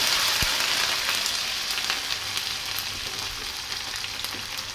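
Ginger garlic paste sizzles steadily in a hot pan as a constant, close frying hiss, heard alone.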